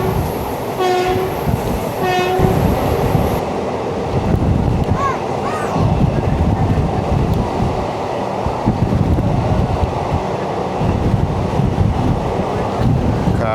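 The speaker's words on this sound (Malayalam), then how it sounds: "കാറ്റടിച്ചിട്ട് ക്യാമറ സ്റ്റേബിളായിട്ട് നിർത്താൻ പറ്റുന്നില്ല." Strong wind buffets the camera microphone aboard the 56603 passenger train from Coimbatore to Shoranur as it crosses the Palakkad Gap. A constant roaring rumble runs throughout, with two train horn blasts near the start.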